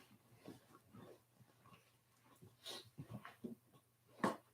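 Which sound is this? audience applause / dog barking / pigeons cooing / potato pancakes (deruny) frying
dog barking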